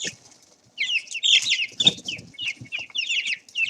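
A flock of young chickens scrambles for live crickets, a faint start giving way to a close, continuous jumble of high peeping and clucking calls, with soft scuffles and fluttering underneath.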